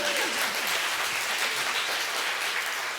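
An audience at an ATX Festival television panel applauds, a steady, dense wash of clapping that holds for the full three seconds without a break.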